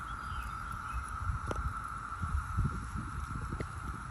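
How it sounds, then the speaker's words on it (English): Brood X periodical cicadas in Maryland drone as a steady, high-pitched whine holding on in the background, joined by low wind rumble and scattered handling bumps, with no talk. "That noise you hear in the background, that is all cicadas."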